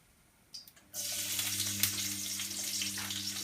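Garlic drops into warm melted coconut oil in a pan and starts frying, a faint hiss and a couple of small clicks giving way to a steady, close sizzle that carries on to the end.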